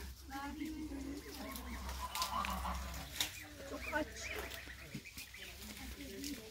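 Yellow geese on a farm give intermittent honks and calls, mixed with other barnyard fowl noise and faint voices, in a fairly quiet outdoor setting.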